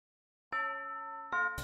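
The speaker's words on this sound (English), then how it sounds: "Ding dong, bing bong" A school bell chime from the Hakuoki SSL video game rings as two clear, sustained melodic tones, the second starting before the first fully fades, followed by a brief, noisier burst at the end.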